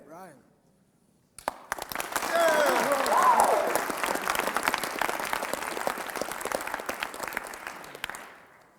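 Audience applause breaks out after a brief quiet with a voice, building to a dense, sustained clapping that tapers off near the end.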